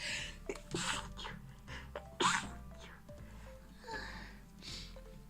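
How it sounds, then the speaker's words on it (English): A single sharp sneeze bursts out partway through, amid a few softer breathy sounds and quiet background noise. "oh my god, I'm gonna sneeze."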